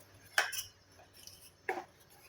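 A utensil scrapes and clinks against a pan twice while stirring a hair oil mixture with amla, quiet stirring between, close by and fairly soft, no voices.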